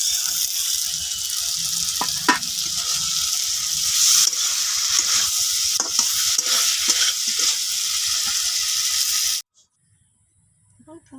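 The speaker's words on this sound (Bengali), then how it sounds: "এবার আমি দিয়ে দিব এই ভেজে রাখা মাছগুলো।" Fried mourala fish are tipped into half-cooked potatoes in a hot pan, bringing a loud, steady sizzle with stirring scrapes and clicks that stops abruptly near the end, leaving near silence.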